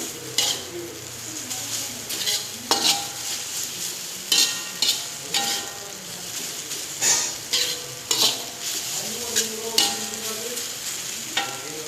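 A utensil scrapes and stirs instant fried noodles (mie goreng) in a sizzling pan, with repeated metallic clinks against the pan at an uneven rhythm, close up.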